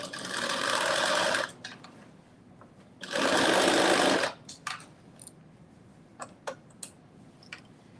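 A home sewing machine runs a regular straight stitch in two steady bursts of rapid whirring, each over a second long, separated by pauses with small clicks and handling noises.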